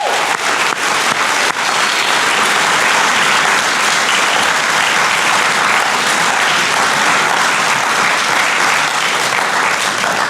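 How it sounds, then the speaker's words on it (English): At a school spring athletics awards ceremony, a large audience claps loudly and continuously for coaches and program leaders, a dense unbroken wash of applause from start to finish. "let's give a round of applause to your coaches and program leaders"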